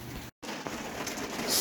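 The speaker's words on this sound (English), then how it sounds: "just started pouring down rain in August" Heavy August rain pours steadily outside a truck, a dense, continuous hiss close by with a brief dropout, then builds louder toward the end.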